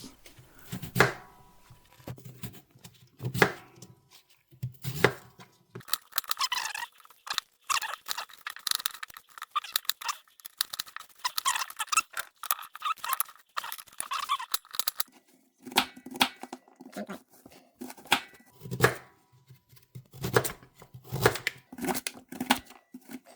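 Onion chopped with a knife on a cutting board, a home cook's half onion cut into uneven pieces: irregular clusters of sharp close taps, some quick runs and some pauses, with quieter rustling between.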